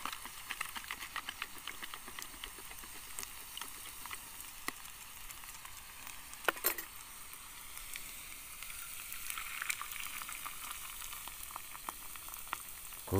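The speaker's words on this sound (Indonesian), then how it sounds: "Goreng telur." Eggs frying in a pan at a night campsite, a continuous faint crackling sizzle with scattered pops and spits throughout, with no voices.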